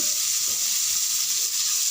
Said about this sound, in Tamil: குழம்பு நல்லா கொதிக்கிட்டு